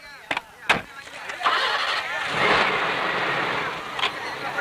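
A vehicle engine cranks and catches after a couple of sharp clicks, then settles into a steady running drone that swells as it pulls away, with brief voices at the start.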